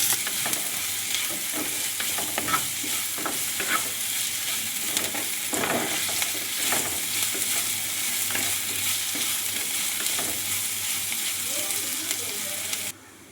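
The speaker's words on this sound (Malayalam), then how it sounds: "ഇനി നമുക്ക് നല്ലതുപോലെ ഒന്ന് വഴറ്റി അതിനൊന്ന് സെറ്റാക്കി എടുക്കാം" An anchovy mixture with green chillies sautés in a pan, giving a loud, continuous sizzle with repeated scraping stir strokes that stops abruptly near the end.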